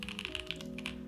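Rapid typing on a plateless Hex.4B mechanical keyboard build with O-ring mounting gives a fast, even run of deep, muted key clacks close up, under steady background music.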